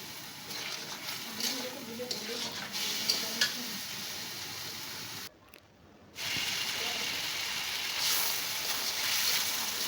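Chinese-style mixed vegetables, cabbage among them, sizzle in a pan while a utensil stirs and scrapes through them. The frying hiss runs steadily at moderate volume, with a short dip midway before it resumes.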